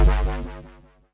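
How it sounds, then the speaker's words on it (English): Synth Reese bass with five-voice unison and slightly narrowed stereo width, a single thick, fat note that pulses with a wobbling phasing motion while decaying over about a second, heard alone. "It gives it that Reese bass quality that we're going after."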